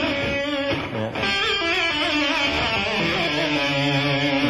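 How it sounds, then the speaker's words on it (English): Distorted electric guitar played using the whammy bar to pull notes sharply up and let them drop back, producing wavering, bending pitch sweeps over a dense, loud sustained tone with no voices. "It's just where you just play a note and then pull up real Sharp,"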